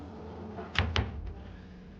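Closet door in a hotel room swung open, two quick knocks of the door and its hardware in close succession followed by a faint thump, quiet room tone around it.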